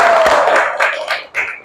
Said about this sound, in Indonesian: Sip, tepuk tangan dulu.